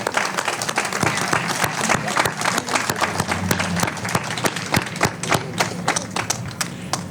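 Audience applause at a county domestic violence awareness recognition event, a sustained, dense round of clapping with a few louder individual claps, with some voices over it.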